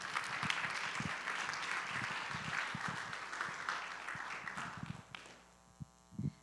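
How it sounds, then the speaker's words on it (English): Audience applause at a ministry group talk, a steady dense wash of clapping from a large crowd lasting about five seconds before tapering off into a few scattered claps and quiet. "if you would please give a warm round of applause for my friend, Mandy Davis"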